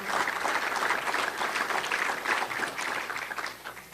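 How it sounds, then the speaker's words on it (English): Audience applause at a political campaign event for an Illinois governor candidate, dense steady clapping that swells and holds fairly loud across the room, then begins to thin toward the end. "Give them a round of applause."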